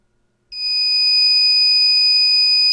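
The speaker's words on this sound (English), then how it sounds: "MedReady's powerful alarm will be activated when it's medication time." A MedReady medication dispenser alarm starts after a short silence and holds as a loud, steady electronic tone with bright harmonics, ringing continuously to the end.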